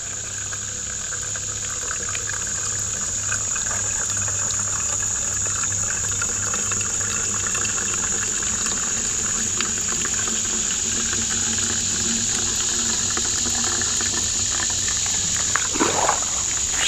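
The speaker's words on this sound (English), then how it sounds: "Squeeze it directly into a clean bladder, empty water bottle, another water bag, whatever you want to use." Water trickles steadily through a Sawyer Squeeze filter into a container, a continuous close, soft stream with a faint hiss running throughout and a brief handling sound near the end.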